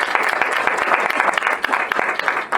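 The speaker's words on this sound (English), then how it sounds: "I want to clap for everyone that's here for that." Crowd applause at a women's voting and gender equality panel event, a dense patter of many hands clapping steadily and fairly close, without pause.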